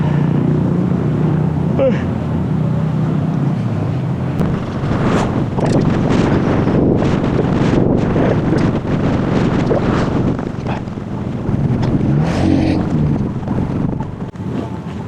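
Strong gusty wind buffets the microphone at a motorcycle-trip campsite on a blustery day, a loud continuous roar with rising and falling gusts throughout.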